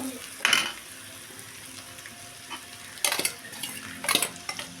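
Noodles sizzle and fry in a hot pan while being stirred, with a soft continuous frying hiss broken by several close, sharp scraping and clattering bursts of the utensil against the pan.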